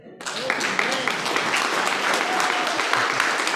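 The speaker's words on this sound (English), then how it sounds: "another hand clap to Mrs. Lewis" Church congregation applauding a 103-year-old mother of the church, a dense sustained wash of hand clapping that starts abruptly and fills the room, with voices faintly mixed in.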